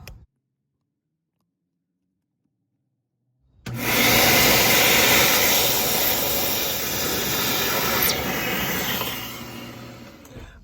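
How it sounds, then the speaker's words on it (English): Silence, then a vacuum cleaner switches on abruptly and roars loudly and steadily for several seconds, cleaning a 2012 Volkswagen engine bay, with a high whine over a rumbling motor. "we vacuum up everything that we possibly could"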